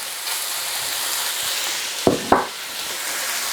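Whole squid hits hot oil in a stir-fry pan and sizzles with a steady, close hiss. Two sharp louder crackles break through as pieces go in, and the frying keeps up underneath.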